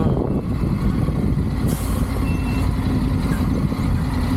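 A truck ahead in road traffic gives off a steady, loud low engine rumble, with a brief hiss like an air brake partway through.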